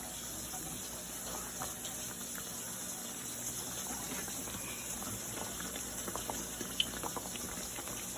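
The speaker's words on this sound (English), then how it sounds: "I'm gonna turn it down to low because it's already boiling" Pork chops in gravy boil in a pot with steady, quiet bubbling and soft popping throughout, heard up close and faint, with no talking.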